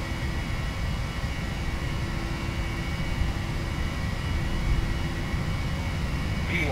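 Jet engines of a PMDG 737NGX in a flight simulator roar at takeoff power during the takeoff roll, a steady, loud, broadband rumble and whine that builds slightly toward the end, with no talk.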